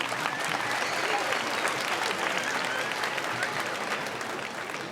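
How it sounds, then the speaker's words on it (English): At a junior high school end-of-year concert, the audience gives a long, steady round of applause that holds at a constant level throughout and tapers only slightly at the end. "Give them a round of applause."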